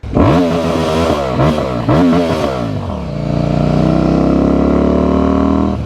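A CFMoto Ibex 800S motorcycle with its damaged muffler cut off blips and revs loudly and raspily several times, then settles into a steady, rough idle with an open, unmuffled bark.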